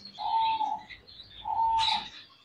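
Gouldian finches in a breeder setup in Lahore give two clear, drawn-out whistled calls about a second apart, fairly close and alone, with faint background noise between them.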